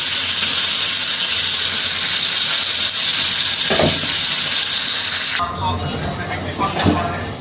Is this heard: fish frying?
yes